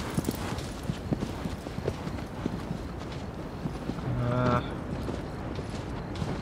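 Hooves clip-clopping at a steady, rhythmic gallop from the horse in the video game Shadow of the Colossus, a constant moderate layer with a brief tonal swell near the end.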